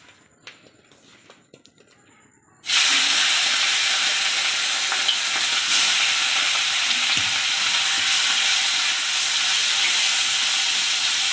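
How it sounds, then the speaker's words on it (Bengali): Tangra fish dropped into hot oil in a wok, bursting into a loud, steady sizzle and hiss after a quiet moment of faint handling noises, continuing unbroken to the end. "মাছ কটা ভেজে নিই।"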